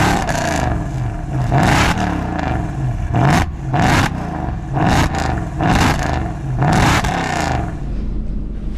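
A Mercedes CLK 63 AMG Black Series with a Weistec stage 3 supercharged engine, heard from inside while driving: loud, repeated revving surges that rise and fall roughly every second, with gear-change dips between pulls and a constant road rumble.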